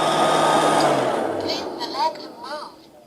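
A B3000 robot vacuum cleaner runs with a steady whirring motor hum that fades gradually, with brief higher chirps toward the end.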